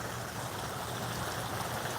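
Water flowing steadily in the Breede River near Bontebok National Park, a soft, continuous rushing wash at low level with no other sounds standing out.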